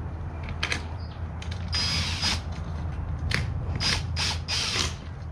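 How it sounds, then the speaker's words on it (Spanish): Screws being driven to secure the small arm brackets of a truck seat during upholstery work, a close run of ratcheting, creaking mechanical clicks in irregular bursts over a steady low hum, with no talking. "Ahora simplemente le va a poner dos tornillos deteniendo estos bracitos"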